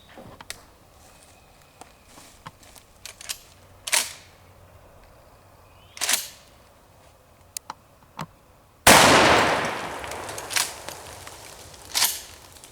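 Remington 870 tactical shotgun firing slugs and buckshot outdoors: sharp loud reports at irregular intervals, with one especially big blast followed by a long decaying echo, and fainter clicks and thuds between shots.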